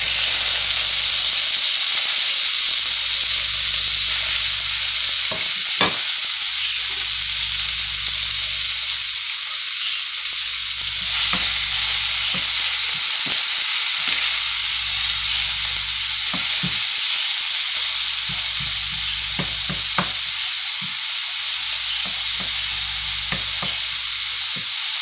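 Vegetables, including tomato, frying with eggs in a pan make a loud, steady, close sizzle and hiss that runs throughout, broken by occasional clicks and scrapes of stirring, with no talk.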